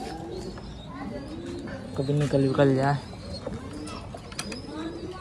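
Domestic pigeons coo in a soft, throaty burst amid scattered chirps and flapping nearby, while someone talks over them.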